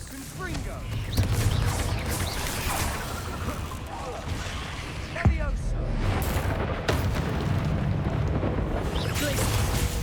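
Confringo blasting spell explosions in the game Hogwarts Legacy, heard as a continuous loud rumble of blasts and crashes with sharp hits, while a voice shouts spell names over the combat din.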